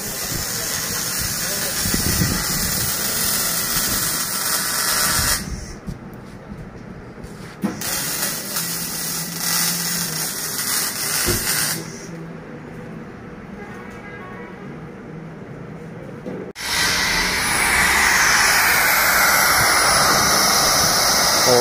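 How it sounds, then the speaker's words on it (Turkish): Compressed air hisses steadily as a compressor pressurizes a boat diesel fuel tank during a leak test in a metal workshop, the loud rushing noise dropping out briefly in two stretches before returning strongly. "Buradan kompresörle hava basılıyor."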